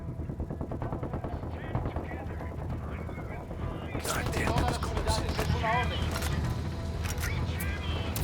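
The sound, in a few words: gunfire in the video game Ghost Recon Wildlands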